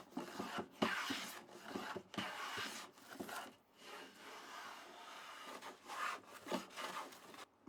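A hand plane takes shavings off the edge of a wooden straight edge. Several quiet, close, rasping strokes come in uneven bursts with short pauses between them.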